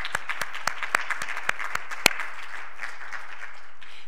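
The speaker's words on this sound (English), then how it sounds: "Give yourselves a nice big round of applause." A congregation applauding graduates at a Sunday celebration service, with a few loud, distinct nearby claps in the first half over sustained crowd clapping that gradually thins out.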